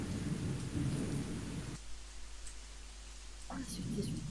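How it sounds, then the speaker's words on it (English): Rain patters steadily with rumbles of thunder, a moderate storm ambience that drops away briefly in the middle before returning. "What's with this rain?"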